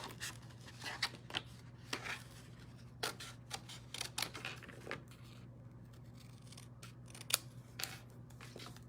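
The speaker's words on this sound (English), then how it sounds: "I can use my paper snips and just cut that out." Paper snips cutting Fresh Freesia cardstock at a slant, a series of crisp snipping cuts spread through the stretch, fairly close over a faint steady hum.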